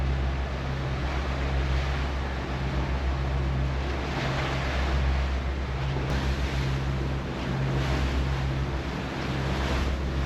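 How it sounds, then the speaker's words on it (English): Ocean waves at sea heard from a sailing catamaran on passage from Turks and Caicos to the US Virgin Islands, with a steady broadband wash of water and wind rushing over a low engine-like hum, continuous and fairly loud, no talk. "The time in between the waves is probably 8 seconds, if not more."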